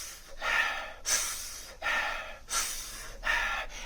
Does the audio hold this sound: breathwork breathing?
yes